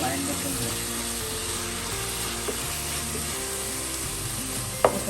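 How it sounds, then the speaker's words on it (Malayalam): Chicken curry being stirred in a pan, a steady sizzle of frying with soft scraping under the hiss and a sharper clink near the end, with background noise and voice-like tones running throughout. "തുറന്നൊന്ന് ഇളക്കി കൊടുക്കണം വലിയ സൈഡിലും"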